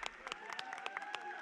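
Scattered applause from an audience at a dance competition grand finale as guests are called onto the stage, quiet and distant, with uneven individual claps standing out over a soft tonal hum.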